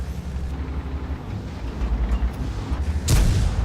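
Main gun of an E50 German medium tank firing in World of Tanks, a single loud blast near the end over a steady low engine rumble, with no talk.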